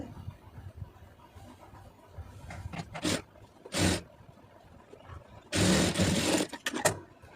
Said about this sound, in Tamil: அதை அப்படியே மடித்து ஒரு படிமான தையல் போட்டுருங்க